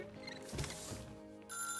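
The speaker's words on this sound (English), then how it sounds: "Phone is ringing." A telephone rings in a furniture-workshop management video game, a steady tonal electronic ring sustained under a continuous background music bed, fairly close and with no voices.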